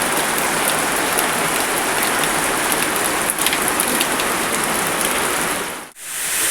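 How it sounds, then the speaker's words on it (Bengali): Steady rain falling without a break under a fully clouded sky in northern Bengal, a dense, even hiss of drops on surfaces that holds level throughout, then drops out sharply for a moment near the end. "এই যে বৃষ্টি হচ্ছে অনবরত"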